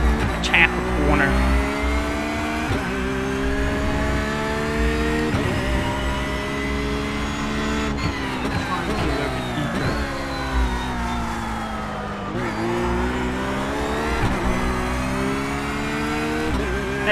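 A GT3 race car in the iRacing sim on the Daytona road course roars continuously, engine pitch climbing and dropping through repeated gear shifts, with faint tire squeal as the car slides.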